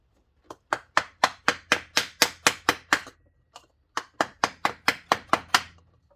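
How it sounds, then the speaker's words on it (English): Hammer striking the side of a 2-inch ABS pipe to seat a crankshaft seal on a 1999 Acura RL, two runs of about ten sharp, close taps each, separated by a short pause. "Gonna hit it with the side of the hammer."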